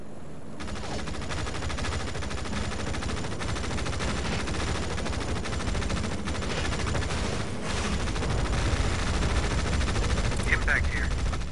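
Continuous gunfire in an EndWar real-time strategy battle, dense overlapping shots and bursts at a loud, steady level, with voices giving radio-style commands over the combat.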